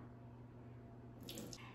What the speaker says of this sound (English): So I'm going to drain away the soaking water now.